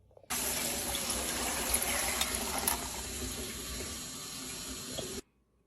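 Water gushes steadily from a faucet into a canning pot for about five seconds, loud and continuous, starting and stopping abruptly.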